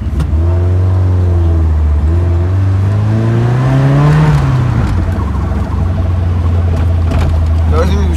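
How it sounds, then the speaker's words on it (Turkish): Car engine sputtering and popping after a wash, with water likely in the spark plugs; a loud, steady idle with uneven revving that rises and falls, close by, with no one speaking. "Arkadaşlar yıkamadan sonra aracımız pötürlemeye başladı neyse"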